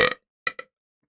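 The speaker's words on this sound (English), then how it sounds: "Almost like the detail in that burp." A short, loud burp breaks off quickly, followed after a pause by a quieter double burp, two quick pulses in a row, all in otherwise silent surroundings.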